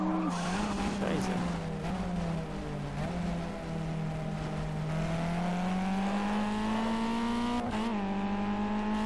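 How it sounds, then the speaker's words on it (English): Race car skidding after a tire blowout in Project Cars, a long sustained tire squeal with a steady engine whine beneath, loud and continuous, with some talk over it. "Looks like a tire blew out."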